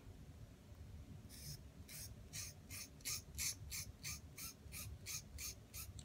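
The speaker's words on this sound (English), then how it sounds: "I'm just scratching some of this pastel into it" Rhythmic scratching of pastel being scraped into UTEE embossing powder, a steady series of about a dozen short, crisp rasping strokes close up over a low background hum.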